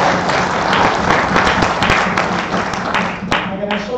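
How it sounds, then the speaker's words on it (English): A room full of people applauds steadily for several seconds, the clapping dense and close before tapering off near the end. "I'd like you to clap for me."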